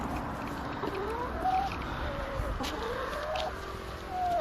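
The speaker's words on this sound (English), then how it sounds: "Chickens are doing fine, as always." Chickens clucking near their coops in a Mediterranean food forest garden in early spring: several hens give repeated short clucks and rising calls at moderate distance over a steady outdoor background, no voices.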